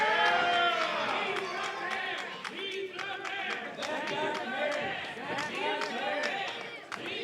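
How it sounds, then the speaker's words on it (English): An independent wrestling crowd in Texas cheers and claps steadily throughout, a dense roar of voices and applause with sharp claps scattered across it, under no clear commentary. "Crowd getting behind Gary J early."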